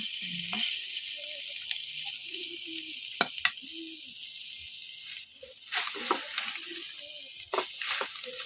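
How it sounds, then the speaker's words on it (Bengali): Shrimp fry in a home kitchen pan with a steady, moderate sizzle. There are a few sharp clinks of stirring, and a quiet voice speaks now and then. "আমার আম্মু এখন আমার জন্য বাজি করতেছে।"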